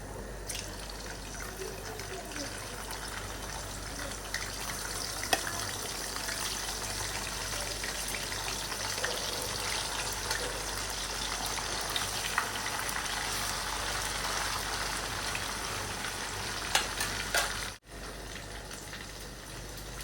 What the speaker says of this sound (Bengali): চিকেনটাও ফ্রাই করে ফেলি